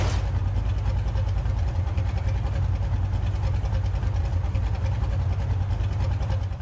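A car engine idles with a steady, deep low rumble in the racing game Forza Horizon 2, droning close and continuous without revving.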